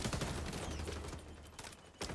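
Rapid automatic gunfire bursts from the video game XDefiant, dense and continuous at close range, with a brief pause before a final burst.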